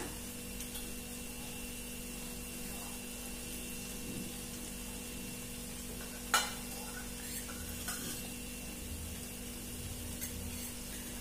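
Spices stirred into egg curry masala in a pan, with a quiet, steady sizzle and soft scraping, plus one sharp clink of utensil on metal midway, no voices.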